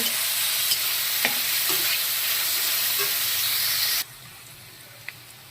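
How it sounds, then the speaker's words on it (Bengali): Steady, dense sizzling of chopped onions frying until browned in a pan, with a few soft scrapes, then the sizzle drops sharply to a quieter hiss near the end. "পেঁয়াজগুলো লাল লাল করে ভেজে নেব"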